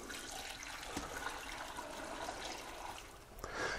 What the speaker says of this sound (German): Da kommt jetzt einfach ein bisschen Wasser dazu und dann wird es weich gekocht.